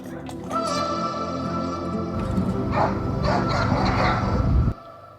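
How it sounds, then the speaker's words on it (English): Dogs bark and yip back and forth at each other close by, in a loud, continuous exchange of overlapping barks that stops abruptly near the end. "It's almost like they don't like each other barking either"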